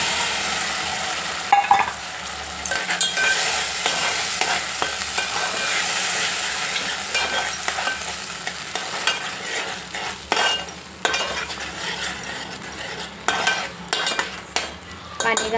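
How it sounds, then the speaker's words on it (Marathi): Roasted masala is stirred into amti, a Marathi dal made without onion, in a pot on the stove, with a soft sizzle under repeated scraping and clinking of a metal spoon against the pan. "आता हे घालायचं आपल्याला आमटीमध्ये।"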